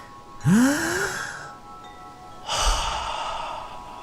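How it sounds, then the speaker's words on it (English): Two deep breaths, a long sighing inhale then a slower exhale, close and clear with a pause between them and no talking. "Now let's take a nice deep breath."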